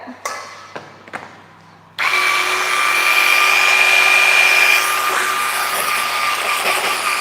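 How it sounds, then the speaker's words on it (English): A blender whirs loudly and steadily after a few short clicks and clatters, its motor drone holding a constant pitch for several seconds. "All right, just blending that up."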